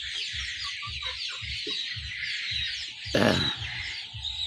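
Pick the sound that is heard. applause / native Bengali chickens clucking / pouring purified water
native Bengali chickens clucking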